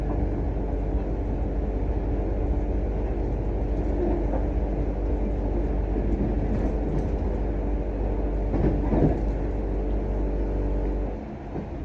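A train approaching Shettleston station on a Scottish line to Milngavie, heard from on board as a steady low rumble and hum of the moving carriage, easing slightly near the end, with no talking.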